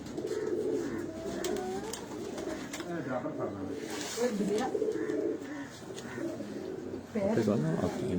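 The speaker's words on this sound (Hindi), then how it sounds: "ये भी अब गोल्डन ब्रीड का एक कबूतर" Golden breed pigeons coo repeatedly in soft throaty phrases close by, while people talk quietly in the background.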